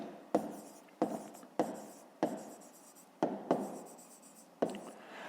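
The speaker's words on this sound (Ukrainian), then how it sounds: "Записуємо в дужках чого гривень" A pen writes on paper while working a grade 5 maths exercise: six separate bursts of scratching strokes, each starting sharply and trailing off, close and alone with no talk.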